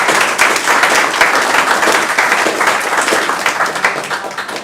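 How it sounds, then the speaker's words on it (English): An audience at a city council candidate forum claps steadily in a dense, even burst of applause that holds for several seconds and then begins to taper off. "Let's give them a round of applause."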